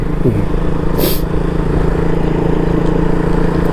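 A motorcycle on an early-morning ride past Vidhana Soudha hums with a steady, close engine drone, broken once by a short breathy rush of wind.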